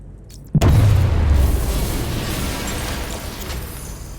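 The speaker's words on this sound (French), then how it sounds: "Fermer la porte de la chambre forte contiendra l'explosion." In the video game Batman: Arkham Knight, a sudden deep boom of an explosion in a vault bursts out after a quiet moment, then a heavy rumbling roar lingers and slowly fades, loud and close.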